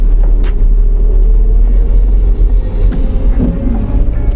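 A car engine driven by a learner driver, heard from inside the cabin as a loud, steady low rumble that swells slightly as the accelerator is pressed, with no talking.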